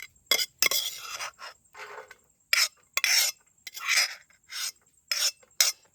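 Repeated scraping and clinking of a spoon against a metal pot as cooked wild kudi vegetable is scooped out onto a plate at a night campsite in the forest, in irregular close bursts with short quiet gaps; no talking.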